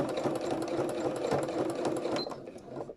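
A sewing machine stitches free motion embroidery with a rapid, steady needle chatter that runs continuously at close range, then slows and stops near the end.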